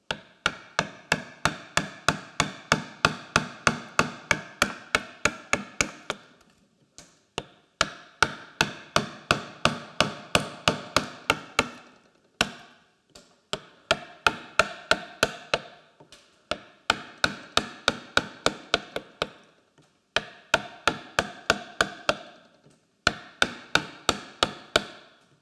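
Rapid, evenly spaced mallet strikes on a chisel cutting into a wooden scoop, loud and close, coming in bursts of a dozen or more blows separated by short pauses.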